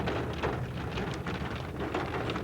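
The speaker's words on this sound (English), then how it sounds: "it started to rain hard" Heavy rain falls outdoors in a national park, a dense, steady hiss of drops on surfaces, fairly faint and continuous, with no voices.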